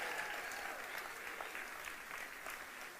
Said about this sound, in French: Est-ce qu'on peut se transformer en comité d'accueil et les applaudir?